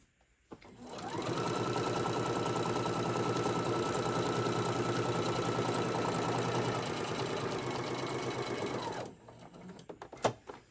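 A sewing machine running a continuous stitch along a seam on a Santa tote bag, a steady close mechanical whir for about eight seconds that starts and stops abruptly, with a few faint clicks afterward.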